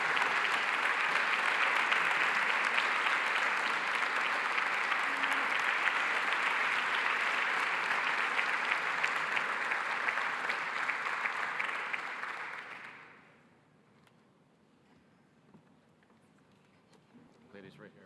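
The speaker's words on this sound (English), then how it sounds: "Let's give her a round of applause." Ceremony audience applauding an education award honoree, a loud sustained wash of clapping lasting around twelve seconds before dropping off abruptly to a quiet room with faint movement.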